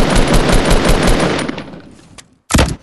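Rapid automatic gunfire from the Fortnite battle royale game played on a phone, a loud sustained burst that tails off, then a short second burst after a brief gap.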